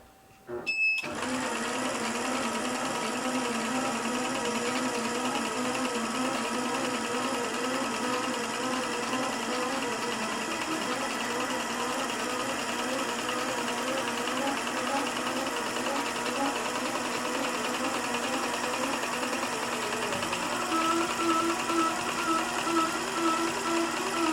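A sewing machine quilts in the ditch, its needle running in a fast, even, continuous mechanical hum that starts abruptly and holds steady throughout, with a slight shift in tone near the end.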